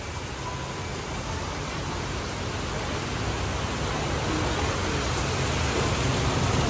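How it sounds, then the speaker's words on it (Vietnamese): Heavy rain pours steadily, a dense broadband hiss that swells slightly louder toward the end, with no voices. "càng ngày mưa càng to nữa"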